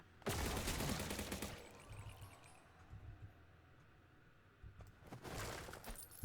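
Gunfire bursts from a gun in the Zombotron video game: a sharp rapid volley at the start, quieter rumbling between, then another short burst of shots near the end.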